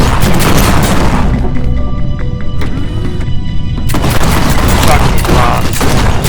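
Loud, close sniper rifle shots in the PC shooter G2 Fighter, heavy booming reports in a dense burst, then a brief quieter gap before more gunfire rolls in.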